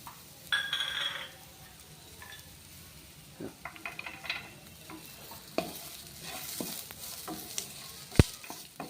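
Garlic cloves and curry leaves sizzle steadily in a hot pan, with a sharp burst of crackling at the start, then scattered clinks and stirring scrapes against the metal, close and moderately loud with no talking.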